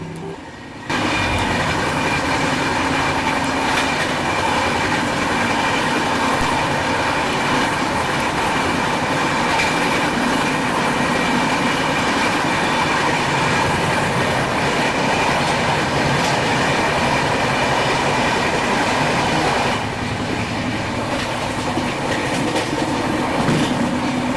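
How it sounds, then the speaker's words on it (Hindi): A long-distance express in Assam pulls away after a long halt, a steady loud rumble of rolling wagons with rhythmic wheel clatter and occasional squeal running continuously throughout. "तो बहुत देर से ट्रेन जो है वो रुकी हुई थी और फाइनली अब ट्रेन चल पड़ी है"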